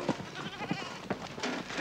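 Goats bleating repeatedly at an outback station in northern Australia, several overlapping nasal calls close by over a steady background murmur.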